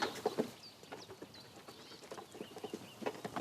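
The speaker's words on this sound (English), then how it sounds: "My runner ducks." Runner ducks at a farm in a rural community, several birds quacking and calling in short irregular bursts, close and moderately loud with faint higher bird chirps behind.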